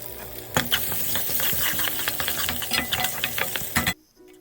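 A tempering of garlic, dried red chillies, turmeric and curry leaves crackles and sizzles as it is stirred into lentil dal, with busy clattering for about four seconds before stopping abruptly.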